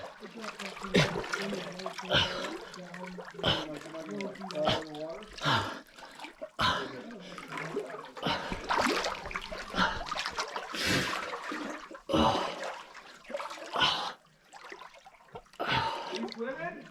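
Water splashing and sloshing as people swim through a flooded slot canyon at Zebra Canyon in Escalante, Utah, with echoing gasps and exclamations over the irregular splashes throughout.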